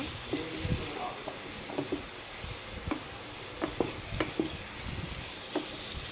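Fish pieces fry in spiced masala with a soft, continuous sizzle and hiss, punctuated by light, scattered stirring taps; the sound stays faint and even throughout.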